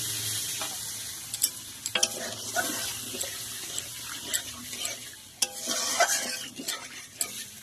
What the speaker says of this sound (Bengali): এবার এর মধ্যে দিয়ে দিলাম আমি জলটা আমি সামান্য পরিমাণে জল ব্যবহার করছি।